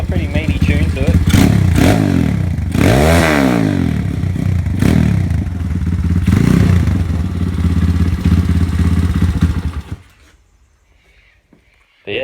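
A 2017 Thumpstar TSX-140 pit bike engine runs close by with a quiet but meaty exhaust, revving up and down in a few rising and falling pulls before cutting out, then briefly restarting at the end.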